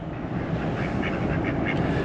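Ducks quacking at a campground pond, a steady murmur of several birds close by with faint repeated calls over continuous low background rumble.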